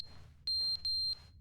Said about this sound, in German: Der Feuermelder.